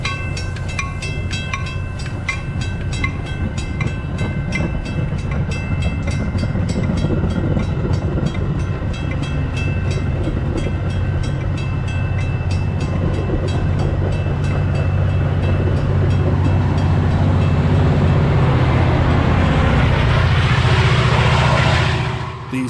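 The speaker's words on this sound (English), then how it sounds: "2716 heads off to the next station stop at Roselle." Metra commuter train 2716 pulls away from a station toward Roselle, a loud, sustained rumble of engine and rolling wheels with steady clatter, building slightly before cutting off.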